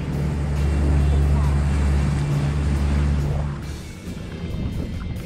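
Steady low engine rumble of motorboats arriving close by at a sandbar, droning loudly before easing off to quieter water and background noise.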